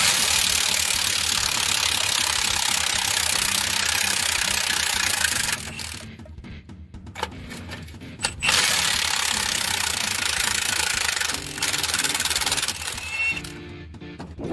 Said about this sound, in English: Now we take out U-bolt.